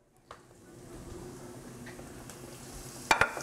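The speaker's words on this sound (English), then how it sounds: "Our vegetables are browning." Vegetables and ground beef brown in a pan for bolognese, a soft steady sizzle close by with a few sharp clicks of a utensil near the end.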